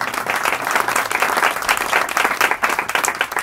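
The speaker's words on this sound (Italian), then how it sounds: "Doppio applauso al nostro presidente" Loud, dense applause from a crowd at a band concert, many hands clapping steadily and continuously close by, with no voices cutting through.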